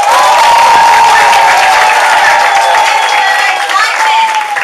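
Loud audience applause and cheering at a training event, dense clapping that stays strong throughout, with a sustained whistle-like tone running through it.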